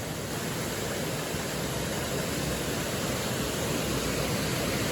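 The constant roar of rushing water from a small waterfall nearby at Lynn Glen, loud and unbroken throughout.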